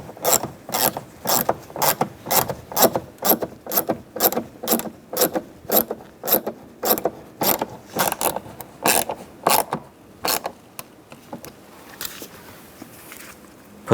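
A ratchet tightens screws while a front window regulator goes into a 2011-2015 Chevrolet Cruze door: steady, evenly spaced bursts of close, crisp clicking that thin out toward the end.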